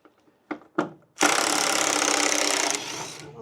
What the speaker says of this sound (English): Let me get on there at the socket or the ratchet in a minute.